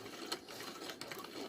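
Vintage Singer 99K sewing machine turned by hand to wind a bobbin, a very quiet, soft, steady whirring with faint light clicks.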